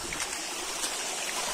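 Rushing river water fills the air with a dense, continuous hiss and rumble, up close and steady for the brief moment, with no voices over it.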